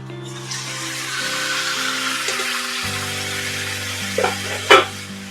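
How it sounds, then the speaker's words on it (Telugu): Chicken pieces frying with turmeric in a pan for a home-style curry, a steady low sizzle with scraping stirs and a couple of louder clanks near the end while background music plays throughout. "ఇప్పుడు పసుపు వేసుకున్న తర్వాత దీంట్లోకి ఇంతసేపు మనము చికెన్ మిక్స్ చేసి పెట్టుకున్నాం కదా, చికెన్ ఇందులోకి వేసుకోవాలి."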